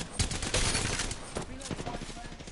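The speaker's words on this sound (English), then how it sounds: "I'm getting shot at." Rapid gunfire in Apex Legends, a dense burst of automatic shots up close for the first second, then scattered cracks and rattles, with a voice or two heard faintly.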